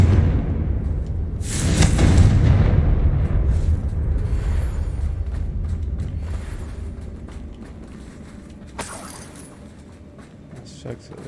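Spell explosions from Confringo in Hogwarts Legacy: a loud burst with a long rumbling tail around two seconds in, then a sharper blast near nine seconds, over a steady low game background.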